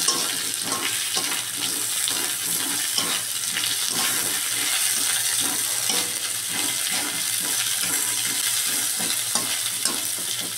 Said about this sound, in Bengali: আলুর টুকরোগুলো দিয়ে দিলাম। এবার এটাকে একটুখানি হালকা ভেজে নেব